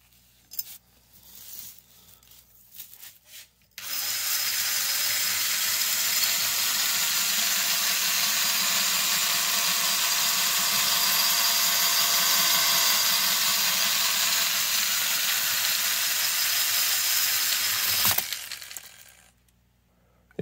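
Honing stones spinning inside a corroded old snow plow hydraulic cylinder under light pressure, a loud steady high whir for about fourteen seconds, starting and stopping abruptly, with quieter handling noises before and after.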